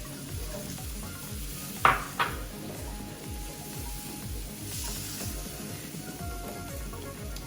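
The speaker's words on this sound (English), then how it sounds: "Make sure that the paste is well incorporated with the coconut milk. Just keep stirring and push the those curry lumps." Panang curry paste being stirred into coconut milk in a pan, a steady soft sizzle and scraping that runs throughout, with two sharp utensil knocks against the pan early on.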